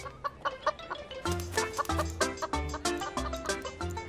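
Hens clucking in a busy, close series of short, rhythmic calls that grow denser and louder partway through.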